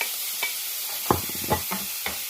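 Onion and garlic frying in a pan, stirred in a few distinct scraping strokes over a steady sizzle, close up and without speech.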